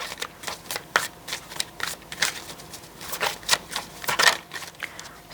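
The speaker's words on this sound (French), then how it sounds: "Je vais juste rajouter une carte dessus." Paper playing cards tap and slide during a tarot reading as one card is laid on top of a spread, with a series of close, crisp flicks and shuffling rustles.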